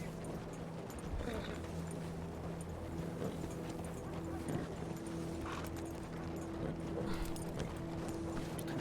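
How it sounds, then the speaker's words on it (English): Horse hooves clip-clop at a steady riding pace in the western roleplay game RedM, a continuous rhythmic clatter heard close and fairly quiet. "need to ride my horse"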